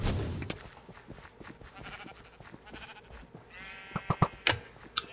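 Video game sheep from Sheep Quest 2 bleat repeatedly in quick bursts, close and fairly loud, over clicky game sounds and thuds with a busy background.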